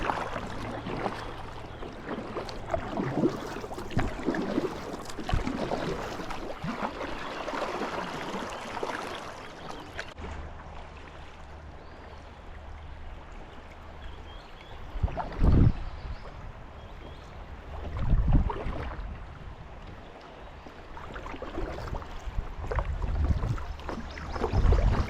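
Rushing, churning water streams steadily around a small punt boat, with occasional louder surges and splashes as it moves through river rapids.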